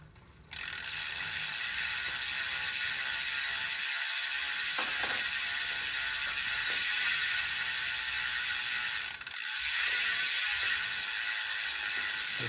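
A ratchet tightening a ceramic bottom bracket on a bike, a steady, fast mechanical clicking whir sustained close up for several seconds, with short pauses, no talking.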